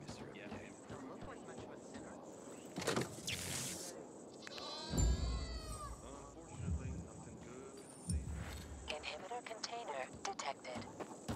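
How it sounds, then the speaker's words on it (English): A goat bleats once, a short wavering cry, in the video game Dying Light 2, set against quiet ambient insect chirps and soft background game sounds, with speech-like sound elsewhere in the scene. "The goat is grilled."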